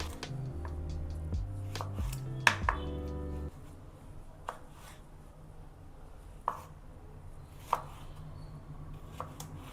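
Eggplant (brinjal) cut with a knife for a curry: a run of quick close knife strikes on a board early on, then sparse single chops and taps spaced out over a quiet background.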